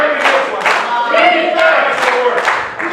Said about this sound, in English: And the crowd chanting defense